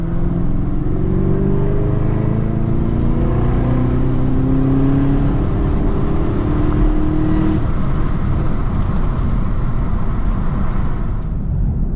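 A Chevrolet Camaro ZL1 drives steadily on a back road with a loud, constant engine drone and road rumble, the engine note rising slightly, then easing off as it cruises.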